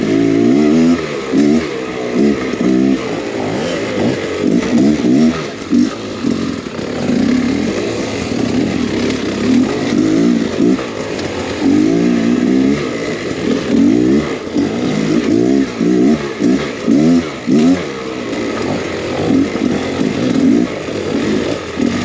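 An enduro motorcycle engine revs hard in second gear, a loud, buzzing, continuous roar that surges and dips rhythmically throughout.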